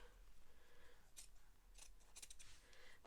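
Scissors snip through the frayed edge of denim jeans, a few quiet crisp cuts in short bursts against a faint low hum.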